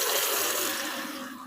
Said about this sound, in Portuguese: eu pego a água direto da torneira